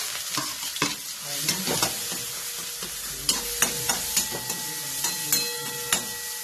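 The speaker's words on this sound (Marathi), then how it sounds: "आता हे मिश्रण याच्यामध्ये घालायचं." A vegetable mixture with peas dropped into hot mustard-seed oil and stirred, loud steady sizzling with repeated sharp scraping knocks of the spoon against the pan.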